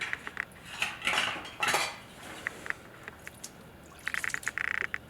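Metal fittings clink and scrape while a well pump pressure switch and gauge are unscrewed from their threaded nipple, with scattered close taps, a brief rattling burst and a quick run of clicks near the end, no talking.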